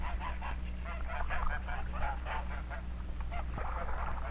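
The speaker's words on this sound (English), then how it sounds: "Geese are as much at home in water as on land." Geese honking on a farm, a run of repeated nasal calls overlapping one another, fairly close and steady over a low background hum.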